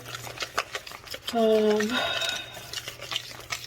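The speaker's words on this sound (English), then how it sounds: "Now we're gonna mix it around." A spoon stirring food in a pot while cooking an iftar dish, scraping and clinking against the metal, with a brief louder stretch of stirring in the middle and a voice speaking around it.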